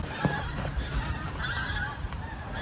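Geese honk repeatedly in a noisy outdoor setting in a Scottish coastal village, several calls overlapping at moderate distance over a steady rushing background.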